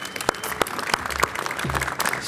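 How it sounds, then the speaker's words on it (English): Applause from an audience at a mayoral ferry commissioning event on Staten Island, with loud, close individual claps over the crowd and a brief voice partway through. "Let's give Rosanna another big round of applause"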